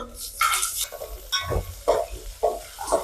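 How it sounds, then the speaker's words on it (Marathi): Tomatoes and onion frying in a pan for dal bafle, with a sizzle broken by irregular stirring scrapes and clinks of a utensil against the pan, fairly close and loud, with no talking. "आता मी हे टमाटर बी टाकून घेते।"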